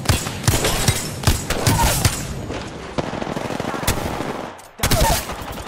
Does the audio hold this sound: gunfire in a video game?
yes